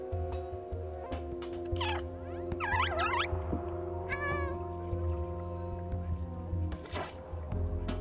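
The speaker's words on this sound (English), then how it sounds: "Meow to attract enemies." Several short cat meows from the video game Stray rise over steady game music and ambience, with a brief gap between calls and a louder cry near the end.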